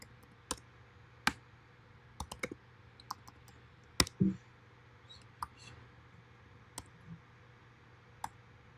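Sparse clicks and taps on a computer keyboard, a handful of separate keystrokes spread out over a quiet low hum.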